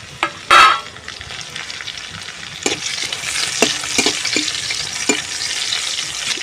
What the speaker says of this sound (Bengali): দিয়ে দেবো রসুন কুচানো।